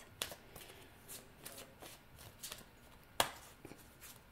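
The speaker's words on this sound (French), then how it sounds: "Il faut aller chercher 4 cartes." Playing or tarot-style cards being shuffled and drawn by hand, a series of soft riffling flicks and slaps, close and quiet, with one sharper snap partway through.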